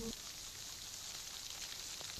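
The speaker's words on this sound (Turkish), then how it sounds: "Ne yağmur ama." Rain falling outside, a faint, even hiss of drops with no other sounds standing out.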